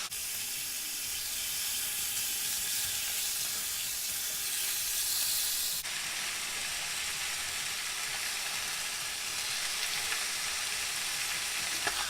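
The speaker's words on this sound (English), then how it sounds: "We're going to brown this on both sides, so just a quick browning for about 2 minutes on each side" Chicken browning in a hot pan for a green chicken burrito, a steady, dense sizzle of searing meat that runs unbroken and fairly loud throughout, with a slight shift in tone partway as the frying continues.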